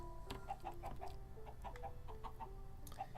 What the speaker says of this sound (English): Eat my little chicklings. Eat.